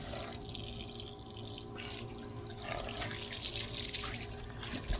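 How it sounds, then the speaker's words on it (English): Water sprays and splashes in a steady, hissing stream, like a hose rinsing film off a hydro-dipped skateboard close by, running continuously with slight changes in flow. "We're just spraying the water, getting the extras off. Now we're just rinsing it."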